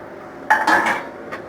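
Cooked rice tipped into a tamarind mix in a metal pan while making puliyodharai, a few sharp clinks of spoon against pan, then a quieter tap.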